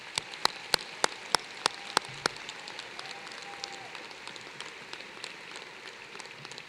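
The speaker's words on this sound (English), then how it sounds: "Audience, please join me in a round of applause for our students." Scattered sharp claps open into a faint, dense patter of applause from a commencement audience honoring students at an EMU spring ceremony, fairly distant and soft throughout.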